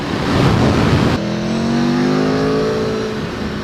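A 2019 Aprilia Tuono V4 1100 Factory motorcycle engine revving hard nearby, a loud roar followed by a rising gear-climbing whine that sweeps upward, then eases off slightly toward the end.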